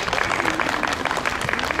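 An audience claps after a band's set at an outdoor concert stage in Odori Park, a steady patter of many hands, fairly close and sustained, with a faint voice underneath.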